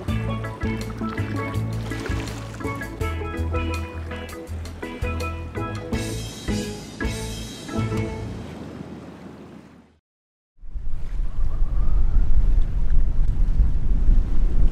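Storm wind buffeting a boat at anchor in a sheltered anchorage off Spanish Wells, Eleuthera, with calm water and no waves. After music ends, a loud, steady roar of wind sweeps across the microphone for the final seconds.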